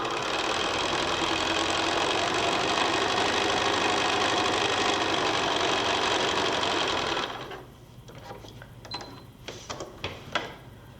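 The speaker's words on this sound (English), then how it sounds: "now we are going to sew a 1/4 inch seam from both sides of that line we marked" Sewing machine stitching a quarter-inch seam through quilt fabric for a four-patch rocking block, a loud steady whirring run for about seven seconds, then stopping, followed by faint handling clicks and rustles.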